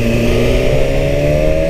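The engine of a 2017 BMW S1000RR motorcycle drones loud and close, holding a steady rising tone for a short stretch under heavy wind rush, with no talking.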